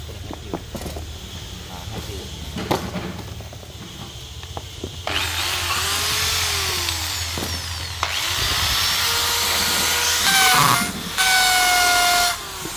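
A Hitachi 530W hammer drill runs in several bursts, its motor whining and shifting pitch as it revs up and cuts off, loud and close, with faint talk around it.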